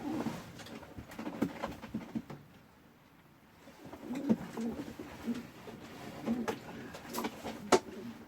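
Pigeons coo softly at an allotment loft, low throaty calls repeated under faint rustling and shuffling, with a short quieter lull midway.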